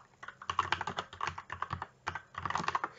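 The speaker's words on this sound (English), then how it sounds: "trying to type too fast." Quick, uneven bursts of typing on a computer keyboard, clicking keys in rapid clusters with a short pause between them, heard close up and fairly quiet.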